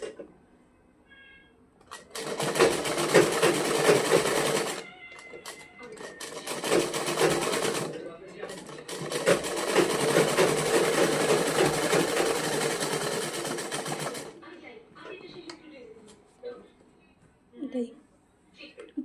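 A sewing machine stitching a folded blouse front panel runs in two long rattling bursts close to the mic, with short pauses between and someone talking quietly before and after.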